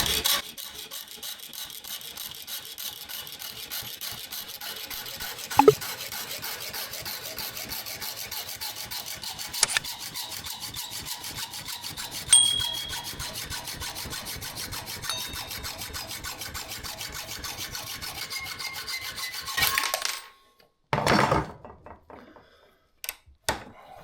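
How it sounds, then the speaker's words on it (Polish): A metal key is cut down in a workshop, a steady rasping, filing-like scrape running for about twenty seconds with occasional sharp knocks, then a few louder clunks at the end. "chodziło, właśnie żeby obciąć część klucza"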